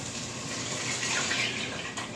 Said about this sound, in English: So we're going to add 6 cups of milk.